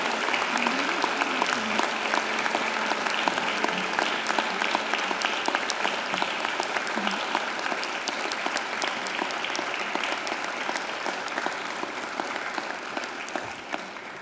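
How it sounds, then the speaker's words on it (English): Graduates at a Macquarie University graduation ceremony applaud their family and friends, a dense, sustained round of clapping from a large crowd in a hall that fades slightly toward the end. "I invite you to give them a mighty round of applause"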